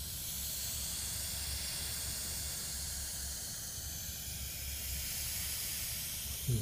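A steady, continuous gas hiss from a leaking coil runs throughout, broad and airy, with a low rumble underneath and no voices.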